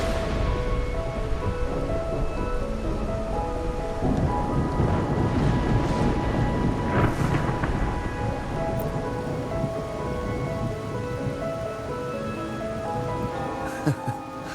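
Steady heavy rain pours across a game landscape in Wuthering Waves, with rolling thunder swelling in the middle and rumbling on, dense and continuous throughout.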